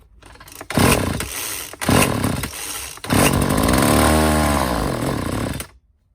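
A McCulloch chainsaw being refurbished sputters in two short bursts, then settles into a steady, loud half-throttle run for about three seconds before cutting off, heard up close with no talking.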